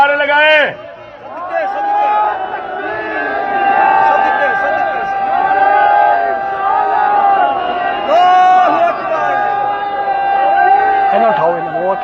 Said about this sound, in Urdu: ہاتھ بلند کر کے نعرے لگائیں.